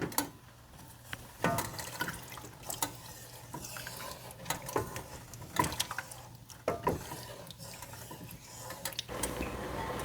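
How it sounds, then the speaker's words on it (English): Broth poured into a cooking pot while making asparagus soup, a steady splashing liquid stream with clattering kitchen noises running throughout, close and fairly loud. "All right, I'm going to add my broth."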